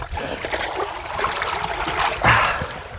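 River water trickling and splashing lightly near the bank, close and fairly quiet, with small irregular splashes and a slightly stronger splash near the end.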